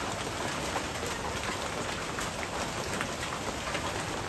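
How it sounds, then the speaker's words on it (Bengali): Heavy rain pours steadily over a village, a dense even hiss of drops on surfaces that continues without pause and with no voices. "বৃষ্টি মনে হয় আজকে সারা দিনে যাইব না"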